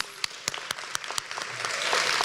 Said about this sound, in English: please join me in giving our Viking honorees another huge round of applause